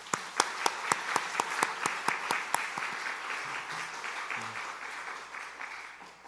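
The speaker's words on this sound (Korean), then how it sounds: "2달간 우리들에게 귀한 하나님의 말씀 전해 주신 우리 배종실 목사님께 감사의 박수 한번" A Sunday worship congregation claps in thanks for their pastor, starting with several loud, evenly spaced rhythmic claps over a softer bed of applause that then settles into a scattered patter.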